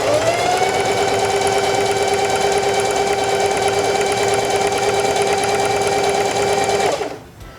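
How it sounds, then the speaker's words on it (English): A Heavy Duty 4411 sewing machine runs steadily and loudly while stitching a buttonhole, its motor drone unbroken for about seven seconds before it winds down and stops. "Select number 2 on your stitch selector dial and sew until you've reached the top line that you drew on your fabric"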